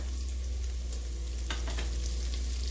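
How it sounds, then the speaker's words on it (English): Fresh garlic, three cloves, sizzling in a hot pan while cooking arroz con gandules: a steady loud frying hiss with a few brief stirring scrapes, no talk. "Okay, and then we're gonna put in our fresh garlic."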